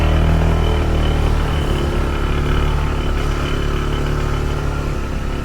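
A motorbike engine runs steadily on a holiday ride in Uluwatu, Bali, with a loud, close, continuous low rumble and no break.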